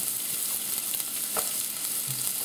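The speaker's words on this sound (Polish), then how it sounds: "I cebulę smażymy," Steady, dense sizzle of onion frying in a pan for tomato sauce, with a few faint clinks and scrapes; no one speaks.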